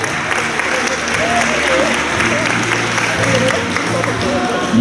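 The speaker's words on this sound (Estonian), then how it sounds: "Ja aplausi võistlejatele ka Viini Vatsile." Sustained audience applause for dance competitors at a ballroom dance competition final, steady and loud across the whole stretch, with a voice talking faintly beneath the clapping.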